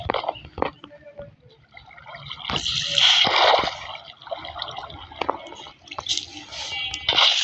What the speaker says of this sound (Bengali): প্রথমে আমি এইখানে জল ছাড়ি।